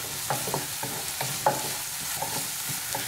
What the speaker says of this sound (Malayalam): ഈ ചെറിയുള്ളിയും കറിവേപ്പിലയും കൂടി നന്നായിട്ടൊന്ന് ഫ്രൈ ആയിട്ട് വരട്ടെ